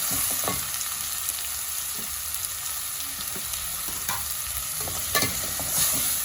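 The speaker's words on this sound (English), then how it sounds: "After doing this, I will stir and cover" Tomatoes and other ingredients sizzle steadily in a pan while a utensil stirs them, with a few scraping knocks against the pan over a constant frying hiss and no talking.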